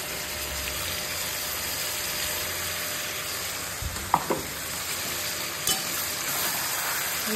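A paste of ginger, garlic, cumin, fennel and ripe red chilli fries in a pan with a steady, even hiss, broken by a few soft knocks and clinks of a utensil.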